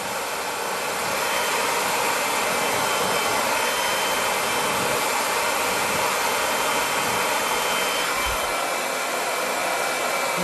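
A hair dryer on high heat and medium speed blow-dries hair above shoulder length, a steady, loud airy whoosh running without a break the whole time, close by.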